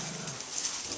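A dog whimpers with a low growl, faint and close by, in a brief quiet stretch with no talking.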